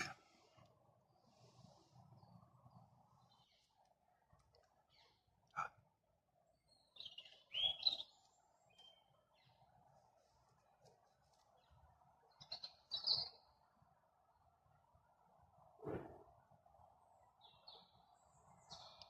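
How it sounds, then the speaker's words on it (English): Parakeet calling near a nest in quiet outdoor surroundings, with a few brief chirps spaced several seconds apart over a low steady background hum and faint rustles. "Just heard a parakeet."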